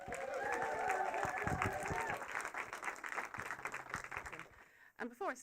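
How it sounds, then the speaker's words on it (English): An audience applauds and cheers loudly in a dense burst of clapping that gradually thins out, then a voice begins speaking near the end. "give a huge round of applause, cheer, ba ba ba, whoop to Sam Davey"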